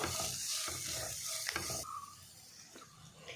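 Ground spices for egg green masala frying in a pan, with a steady hiss of sizzling oil and several scraping stirs of a spoon, close and fairly quiet, and no talking.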